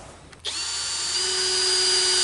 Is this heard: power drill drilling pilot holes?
yes